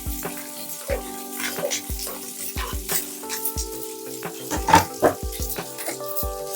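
Mustard seeds, curry leaves, onions and green chilies sizzle and crackle in hot oil for leftover idli upma, with steady frying hiss broken by repeated scrapes and knocks of a spoon stirring in the pan.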